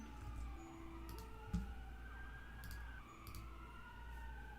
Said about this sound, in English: I don't know if you guys can hear it, there's sirens